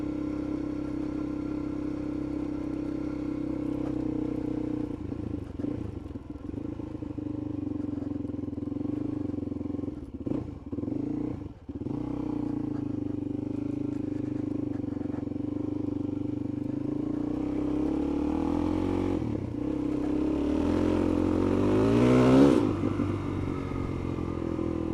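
A Suzuki DRZ 400 motorcycle fitted with an aftermarket exhaust and carburettor runs steadily close by, a lumpy mid-pitched engine note that swells into a brief rev near the end.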